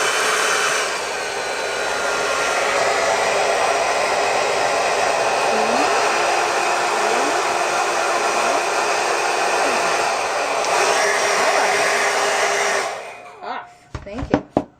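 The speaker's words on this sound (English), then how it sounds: "You're going to take your hair dryer, let it heat up for a little bit" A hair dryer blows steadily at close range to heat nail wraps, a loud constant whoosh for about thirteen seconds before it shuts off, followed by a few handling clicks.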